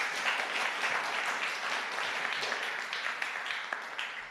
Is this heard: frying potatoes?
no